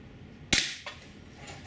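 GAMO P-900 IGT .177 gas piston air pistol firing a single sharp crack up close, followed by a faint thud a moment later.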